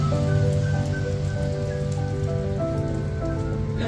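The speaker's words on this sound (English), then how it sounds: "Driving in the rain with the woods." Rain drums steadily on a vehicle roof while driving through woods in Tennessee, a dense, close patter with a droning engine hum and steady tones running underneath.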